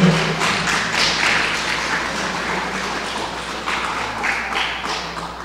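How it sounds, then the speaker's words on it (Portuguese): A church congregation claps together in steady, dense applause that fills the room, loud and close at first and then fading a little, with no talking over it. "Você pode aplaudir ao Senhor?"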